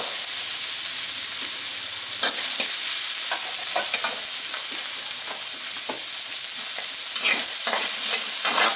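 Fermented fish paste (pla daek) stir-roasted in a pan over low heat: a continuous sizzle and hiss with repeated scraping stirs of the spatula, steady throughout with no talking.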